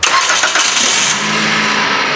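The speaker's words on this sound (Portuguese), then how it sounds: "Ligou o motor do carro" A car engine cranks and catches, then settles into a steady, loud idle, heard close up with no talking during a change of automatic transmission fluid.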